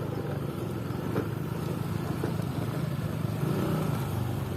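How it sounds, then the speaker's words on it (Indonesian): A motorcycle labors along a muddy, waterlogged forest footpath, its mid-pitched engine droning steadily and close with no clear revving peaks, under constant road rumble and no speech. "Ini motor aja kesusahan, lu lihat jalannya becek, berlumpur."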